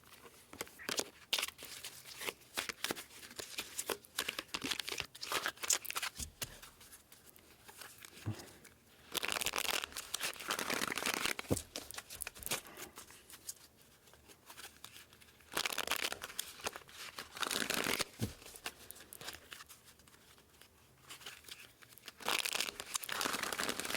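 Tarot cards are shuffled repeatedly in crisp riffling bursts, close to the microphone, with brief pauses between rounds of shuffling.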